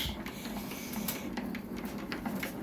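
Hand crank turning to raise a Husky heavy-duty mobile workbench with adjustable height, a quiet, continuous mechanical whirring and clicking close by, with no talk.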